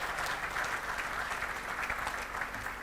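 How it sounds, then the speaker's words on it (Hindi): Steady, dense applause from a large audience at an evening memorial awards ceremony, sustained at even loudness throughout with no break. "मैं उनके लिए चाहूँगा ज़ोरदार ताली बजाइए"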